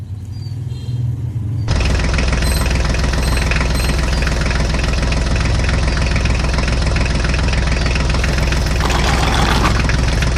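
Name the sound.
John Deere tractor engine running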